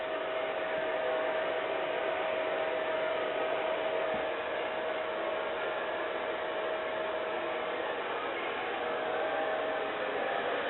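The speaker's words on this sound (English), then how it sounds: "So you directly hit the hairdryer into the root" A hair dryer blows with a steady, close whooshing roar and a faint constant hum, running without a break throughout.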